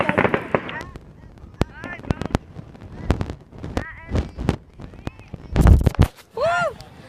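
Fourth of July fireworks go off in a park at night, sharp pops and booms scattered unevenly with whistling rockets rising, while a crowd cheers and talks throughout.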